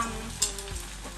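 Pork pad see ew noodles stir-fried in a hot pan, a loud close sizzle with a brief scrape or clatter as the noodles are tossed, no talking.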